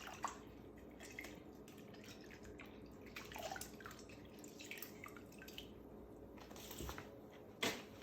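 Pieces of fish are rinsed under running kitchen water, with soft dripping, splashing and light handling noises, faint and close, and no voices.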